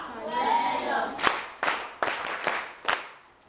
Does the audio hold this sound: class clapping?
yes